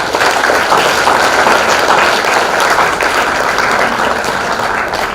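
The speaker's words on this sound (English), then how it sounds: "Please give a round of applause." Loud, sustained audience applause in a lecture hall during a science festival lecture, dense even clapping from a large crowd lasting several seconds.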